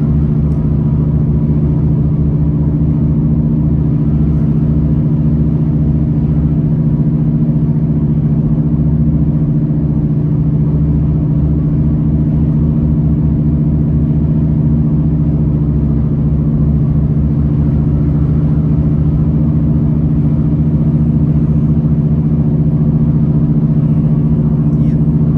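Car cruising on the Wellington motorway in New Zealand, giving a loud, steady, unbroken engine and road rumble heard from inside the cabin throughout.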